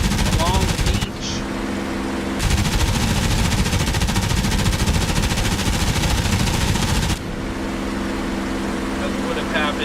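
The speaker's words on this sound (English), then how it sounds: "make a strafing run here along the beach." In the DCS video game, a P-51 Mustang strafes a beach during a D-Day Omaha Beach mission: loud sustained bursts of machine-gun fire rattle over a droning aircraft engine, with one long burst dominating the middle.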